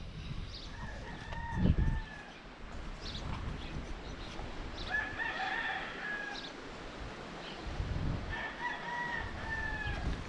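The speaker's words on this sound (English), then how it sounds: "The roosters are everywhere and they seem to not understand what the morning is." Roosters crow several times at a distance near a mission in Agua Verde, Baja California, long drawn-out calls repeating over a faint outdoor background with occasional soft thumps.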